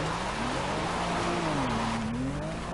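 Fiat Doblo, a front-wheel-drive van, driven in a video game, its engine holding a steady droning tone that rises and falls gently as it accelerates, loud and continuous with no voices.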